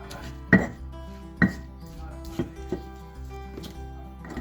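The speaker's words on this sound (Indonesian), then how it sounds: "Yang ini kita keprak kasar ya, bawangnya sama cabainya, gak usah halus" Shallots and chilies crushed coarsely in a kitchen for Indonesian dendeng balado, heard as a few sharp, close pounding thuds at an uneven pace over a faint steady hum.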